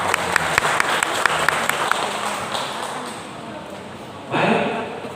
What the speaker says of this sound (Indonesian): Kemudian saya minta penonton tepuk tangan lagi.